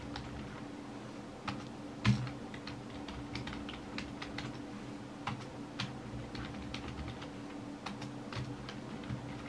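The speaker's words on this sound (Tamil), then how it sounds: "இப்படியே நீங்கள் எது வேணாலும் டைப் பண்ணிக்கலாம்." Someone types on a computer keyboard during a Tamil-language computer lesson: irregular clusters of crisp key clicks with a few heavier taps, close and steady over several seconds, no talking.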